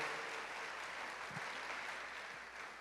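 A church congregation applauding during a sermon, a steady, fairly faint wash of many hands clapping throughout with no clear speech.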